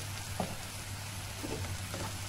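Chopped onion and pepper filling for a meatless borek fries quietly in a pan, a soft continuous sizzle over a low steady hum, with a few faint stirring taps.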